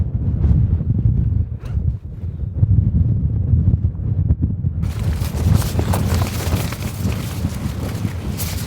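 Strong wind gusts buffet a campsite during a heavy mountain rainstorm, with rough, steady low roaring throughout. A harsher, brighter hiss of wind and rain joins halfway through and stays loud to the end.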